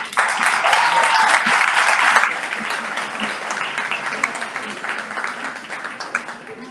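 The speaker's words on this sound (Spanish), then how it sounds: "un aplauso para el señor José Herrera." Audience applause at a talk event in Miami, a dense wash of clapping that is loudest for the first two seconds, then thins into scattered, lighter claps that continue to the end.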